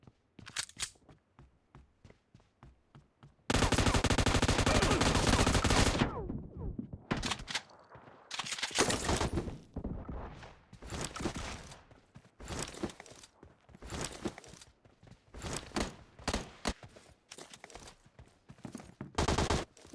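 Shotgun blasts and other gunfire in a PUBG Mobile team deathmatch in the library map, a long loud burst followed by irregular sharp shots and thuds, with game noise between them.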